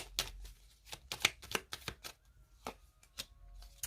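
Tarot cards are handled and shuffled, giving crisp papery flicks and soft slaps as a card is laid down, close and quiet, in irregular bursts separated by brief pauses.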